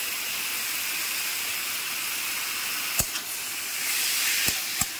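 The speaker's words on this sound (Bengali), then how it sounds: "এবার ভেজে নিই লবণ দিয়ে" Taro leaves fry in a pan with salt, a steady loud hiss like steam running throughout, broken by a few sharp clinks of a utensil against the pan.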